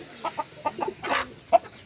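Village chickens cluck in a tiered coop built on a small 2x2 metre plot, giving a handful of short, scattered clucks and squawks at close range, with no talk.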